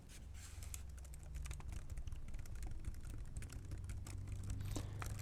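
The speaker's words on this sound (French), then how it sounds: "Un petit clavier Bluetooth." Rapid, light clicking of keys on a small Logitech Bluetooth keyboard, a continuous run of close taps with uneven rhythm.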